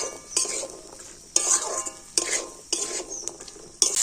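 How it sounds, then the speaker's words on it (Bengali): Cut potatoes fry with spices in a pan, stirred in bursts of scraping and clinking by a spoon against the metal, over a steady sizzle; no one speaks. "সমস্ত মশলার সাথে আলুটাও কিন্তু আমি তিন চার মিনিট এইভাবে একটু কষিয়ে নিয়েছি"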